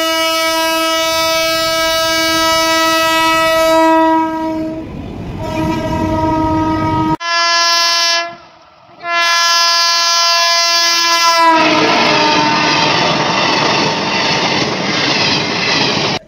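A CRS inspection train on the Bishnupur–Tarakeswar rail line near Maynapur station sounds loud, sustained horn blasts with a brief break, then its wheels and carriages rumble past close by.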